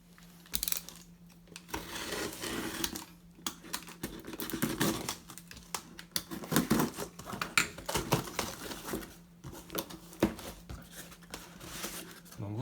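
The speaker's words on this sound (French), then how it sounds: "Allons déballer maintenant un régulateur." A replacement XCM25D controller for an Emerson condensing unit is unpacked. Close, faint crinkling and rustling of packaging comes with scattered taps and clicks in an irregular patter.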